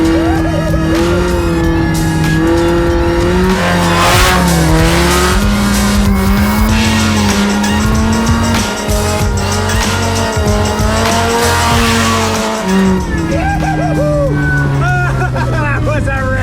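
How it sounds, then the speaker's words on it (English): A Mazda Miata on 14-inch tires spinning hard donuts, its engine roaring loud and close while the tires squeal and skid continuously with shifting pitch, and voices faintly audible beneath the noise. "push these Miata donuts to their limit"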